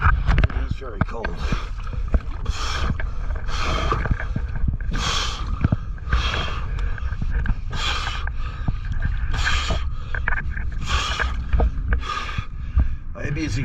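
Repeated scrubbing strokes of a green scouring pad against a cold surface during an inspection, a steady rhythmic rasp with bursts of hiss, close and fairly loud, with some talk mixed in.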